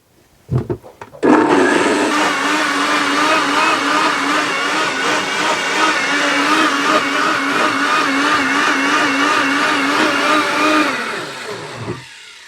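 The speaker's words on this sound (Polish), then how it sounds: "Ja lubię właśnie to zrobić w blenderze, zmiksować, dlatego że powstaje wtedy taka pianka." A kitchen blender whirs loudly for about ten seconds, mixing a frothy watermelon drink, after a few short bumps and clicks at the start, then spins down and stops.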